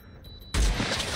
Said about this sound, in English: I'm just shooting random rockets.